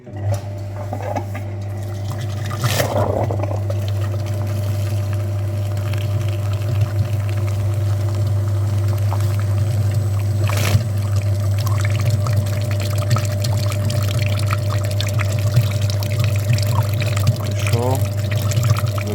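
Radiator flushing machine pumping liquid through the heater core of a second-generation Nissan Qashqai in a workshop, a steady low pump hum with continuous pouring, trickling flow and a few brief knocks.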